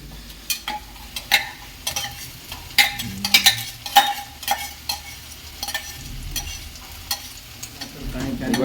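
A masala of ginger, garlic and onion fries in a pan, sizzling steadily while a spoon scrapes and taps against the metal in frequent close strokes, with faint background murmur.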